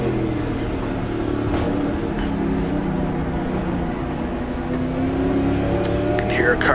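Engine drones and gear-change pitch sweeps from 1966 Daytona 24 Hours race cars in GTR2, one pulling out of the pit lane, form a steady loud hum, with a rising whine near the end.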